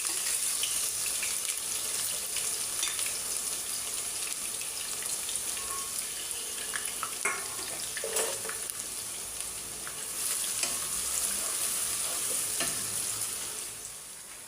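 Continuous sizzling of onions and bay leaves frying in hot oil for a duck curry, with occasional stirring clicks and scrapes, steady and close throughout.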